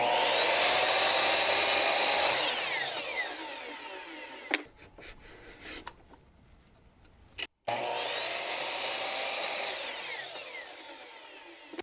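Power saw ripping wood strips for garage pantry shelves, a loud sustained cut of about four seconds, then quiet handling with a sharp knock, followed by a second long cut of similar loudness.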